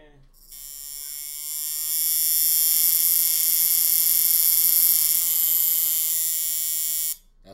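A modified Clipcord tattoo machine running, a loud steady electric buzz that starts abruptly, swells slightly after a second, holds for about five seconds, then cuts off sharply.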